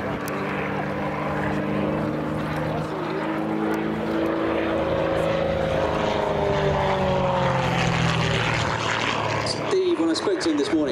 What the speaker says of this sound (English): Very light aeroplane, lots of power, straight up into